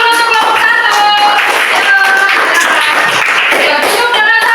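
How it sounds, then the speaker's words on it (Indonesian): A classroom of students clapping for a group that has just presented, loud, fast and continuous close by, with children's voices mixed in. "Tepuk tangan dulu untuk kelompok 1"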